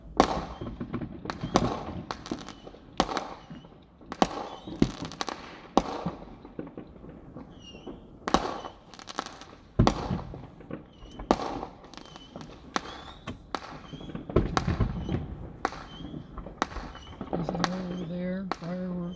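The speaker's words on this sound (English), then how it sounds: "Over there, fireworks all on the hilltop." Fireworks burst over a hilltop at Oak Harbor in a quick run of distant booms and crackles with uneven gaps. People talk quietly nearby between the explosions.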